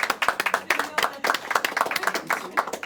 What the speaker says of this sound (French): Je vais aussi vous applaudir